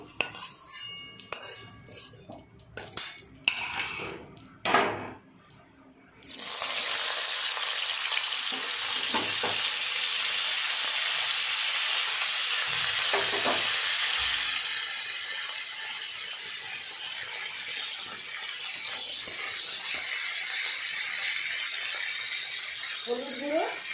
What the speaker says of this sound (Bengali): তুলে নিয়ে একই তেলে আমি কপিগুলোকে একটু ভেজে নেব নুন হলুদ দিয়ে।